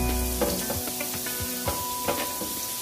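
Sausage, onions and peppers brown in a hot pan with a steady, close sizzle, broken by the soft scrape and clatter of stirring.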